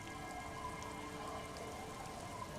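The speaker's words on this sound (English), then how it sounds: "Water starts falling from above. The first cold rain of the season." In the video game Disco Elysium, the season's first cold rain falls as a steady, even hiss with a faint tonal hum underneath and no voices.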